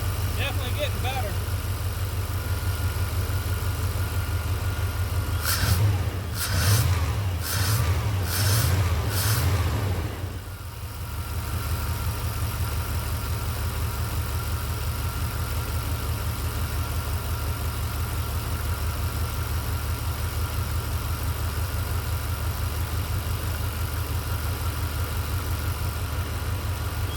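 A 1993 Chevrolet Silverado pickup idles with a steady low rumble, then blips the throttle in a few quick revs before settling back to idle.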